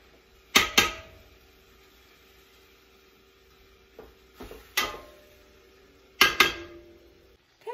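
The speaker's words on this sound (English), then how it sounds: "Right now, all I'm doing is stirring up the meat until it turns brown." Meat browns in a pot over medium heat for a vegetable soup, with a faint low sizzle under several sharp, brief clinks and scrapes of a utensil stirring against the pot.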